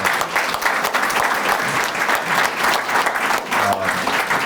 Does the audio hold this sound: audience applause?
yes